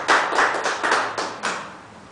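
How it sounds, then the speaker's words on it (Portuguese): A church congregation claps together, about six broad rhythmic bursts of applause that build quickly and then fade away, close and fairly loud with no voices over them. "Podem aplaudir o Senhor"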